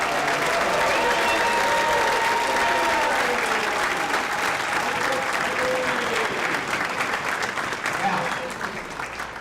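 Loud, sustained audience applause fills a banquet hall at an alumni reunion dinner, a dense wash of clapping that slowly thins toward the end, with a voice speaking over it.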